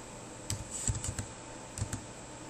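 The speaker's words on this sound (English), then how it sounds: "you can type the history command" A computer keyboard being typed on to enter a command, giving a short run of about eight close, light key clicks in two small clusters, with no talking.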